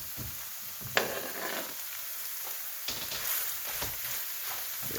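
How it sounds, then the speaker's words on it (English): Eggplant sizzles and fries in a pan for a Thai spicy basil stir-fry, with steady crackling and a few sharp scrapes and clatters as it is stirred, close and alone without talk. "Now we're going to add our eggplant"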